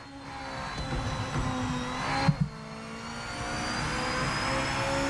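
A car engine drones steadily in a racing video game, a sustained mid-level hum with gradually rising pitch, briefly punctuated by two sharp knocks midway.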